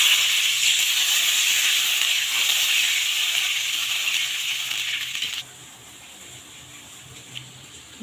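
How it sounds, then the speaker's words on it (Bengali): Water poured into hot oil with spices, a loud broad sizzling hiss that holds steady for about five seconds then drops sharply to a quieter bubbling simmer. "এখন দিয়ে দেবো জল।"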